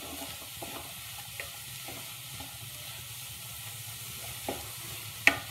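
Frozen corn for a cheesy spinach corn sandwich sizzles quietly in a pan, broken by occasional soft stirring scrapes and one sharper clink near the end.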